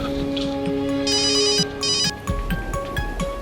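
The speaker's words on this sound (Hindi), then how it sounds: "फोन आ रहा है।" A telephone ringtone plays in a bursty, repeating electronic pattern at moderate volume indoors, with no voices over it.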